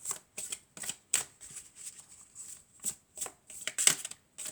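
A deck of oracle cards being shuffled by hand in a series of crisp riffling bursts, about a dozen quick rustles with short pauses between, close and fairly quiet, no voice over it.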